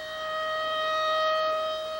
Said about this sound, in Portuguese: Às 7h30 em ponto, soou a sirene